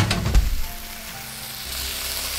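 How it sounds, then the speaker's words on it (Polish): Food sizzling while frying on a stove in the Cooking Simulator game, a loud steady hiss with a sharp clatter near the start, continuing alone for over two seconds. "a tu dalej skwierczy to się"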